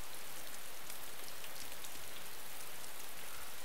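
Rain in the DayZ mod for Arma 2, a dense, even hiss of falling drops that stays constant and fairly quiet throughout, with no talk.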